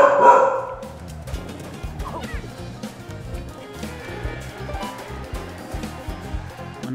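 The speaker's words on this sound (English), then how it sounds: "When I'm going to record videos, my dog makes noise." A dog barks in the background while the Yooka-Laylee video game plays, a quick burst of yips near the start and then scattered barks mixed into the game music.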